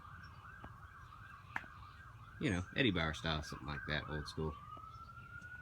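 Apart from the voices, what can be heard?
sirens in the distance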